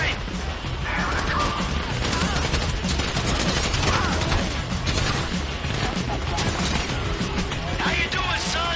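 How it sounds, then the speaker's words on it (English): Gunfire in the video game GTA V during a heist: rapid bursts of shots and crashes keep going throughout, loud and chaotic, with voices shouting among them. "You hear that gunfire?"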